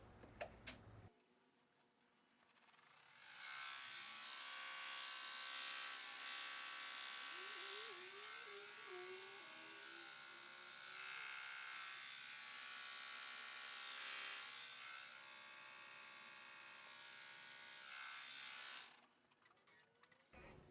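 Embroidery machine stitching out a design for a 3D flower hair bun cover, a steady high buzzing whir with a faint rhythmic ticking, starting abruptly, running evenly at close range, then stopping, with a brief voice in the background.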